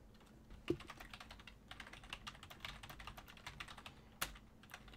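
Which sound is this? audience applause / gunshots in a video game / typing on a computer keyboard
typing on a computer keyboard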